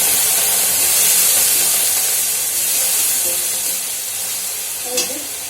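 Food frying in a pan hisses loudly and steadily up close, then a little water goes in and sets off a sharp burst of sizzle near the end.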